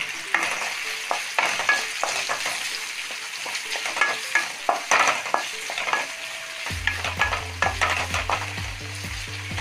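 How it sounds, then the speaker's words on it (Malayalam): Sliced onions sautéing in coconut oil that earlier fried dried red chillies, a continuous close sizzle broken by frequent spatula scrapes and taps against the pan, with a low hum joining in near the end. "നേരത്തെ വറ്റൽമുളക് വറക്കാൻ വെച്ച വെളിച്ചെണ്ണയിൽ ഞാൻ സബോള വഴറ്റാൻ"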